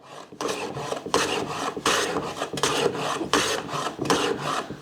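Hand tool strokes shave wood while fitting a dovetail gift box, about seven rhythmic rasping passes in quick succession, close and clear with short pauses between strokes and no talk.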